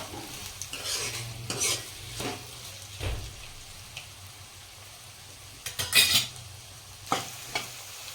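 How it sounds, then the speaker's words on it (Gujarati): Finely chopped onions sautéing in a hot pan for paneer masala, a steady sizzle broken by several sharp scraping strokes of a spoon stirring them, loud and close with no talk. "ડુંગળીને આપણે 1 મિનિટ આપણે સાંતળી લઈશું આ રીતના."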